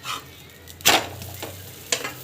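A paratha fries in a pan with a little oil, a soft steady sizzle punctuated by two sharp scraping strokes of a spatula and a fainter one between them, close by and with no voices.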